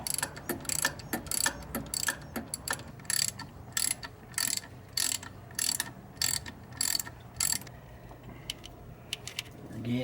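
Socket wrench ratcheting on a Ford Ranger while removing engine parts: bursts of fast, crisp metallic clicks come in a steady back-and-forth rhythm, close and clear, with short pauses between strokes and no talking.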